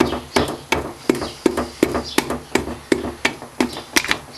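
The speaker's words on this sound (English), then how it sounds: "Just very gently, evenly tapping the piston in" Steady, evenly spaced taps drive a piston into a VW Golf GTI Mk2 1.8 engine block, about a dozen light knocks, close and clear, with no talk.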